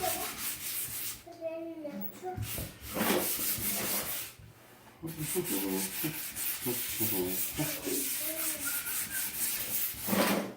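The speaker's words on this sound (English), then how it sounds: "There's no particular way to sand it. Go around in circles, back and forth, whatever you feel comfortable with." Sandpaper rubbed by hand over a wooden cutting board in repeated back-and-forth strokes, a raspy scratching close up, with brief pauses and faint background voices.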